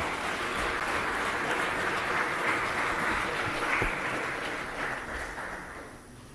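Audience at a diplomatic reception in Tanzania applauding, a steady wash of clapping from a large room that fades slightly toward the end.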